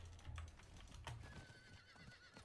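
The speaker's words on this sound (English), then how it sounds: "Ride my horse." A horse in a video game neighs twice with short whinnies, followed by a faint thin tone, all quiet and without speech.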